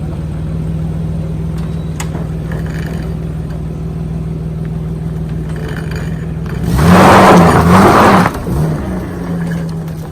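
A Toyota Tacoma pickup truck idles with a steady hum, then revs up loudly for a second or two as it drives forward and settles back toward idle. Heard nearby, with no talking.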